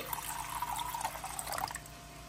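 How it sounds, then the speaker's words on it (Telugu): Water pours into a pot, two glasses' worth for homemade kashayam, a soft gurgling trickle close by that rises and falls over a couple of seconds, no one speaking. "హెల్తీ కషాయం 2 గ్లాసులు నీళ్ళు వేసుకోవాలి."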